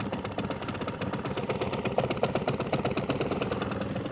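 Small outboard boat motor running during break-in, a steady buzzing engine drone with a fast rattly pulse, close and continuous with no talk.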